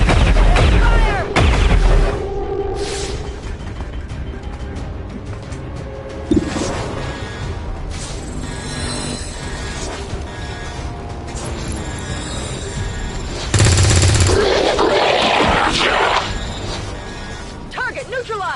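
Squad gunfire in the video game XCOM: repeated loud shots and bursts ring out across a busy combat soundscape, with voices calling out over and between the volleys.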